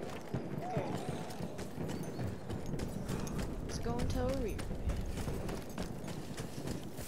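Horse hooves clip-clopping in the Battlefield 1 campaign, a rhythmic clatter mixed with mechanical game noise and a brief whinny, while a player talks over it.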